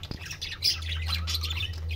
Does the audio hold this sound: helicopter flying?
no